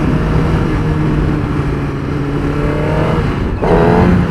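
Motorcycle engine held at a steady loud drone in second gear during a clutch-up wheelie attempt, with a brief dip near the end before the revs pick up again, no talking.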